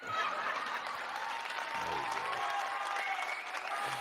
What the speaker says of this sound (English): Everybody cue the applause track.